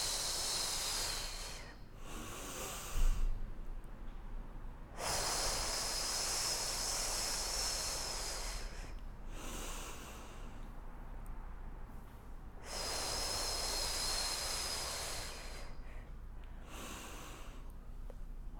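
Slow, deep breaths during a Pilates exercise for pregnancy, several long airy inhales and exhales in steady alternation, close and clear with no talking.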